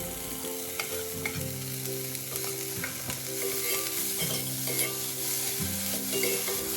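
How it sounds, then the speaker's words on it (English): Chopped onions, chillies and spinach with salt and pepper powder frying in a kadai: a continuous close sizzle with steady stirring scrapes and soft clinks, plus a faint background tone, with no voices. "in the same kadai I will fry some chopped onions, chilies and spinach by adding some salt and pepper powder again"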